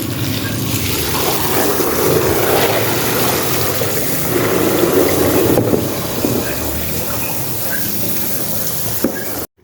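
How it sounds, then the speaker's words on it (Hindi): Water poured in a steady, continuous stream, a broad rushing hiss that holds at an even level throughout before stopping abruptly at the very end. "अंदर से पानी डालो।"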